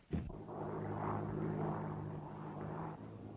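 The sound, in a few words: propeller airplane starting its motor and taking off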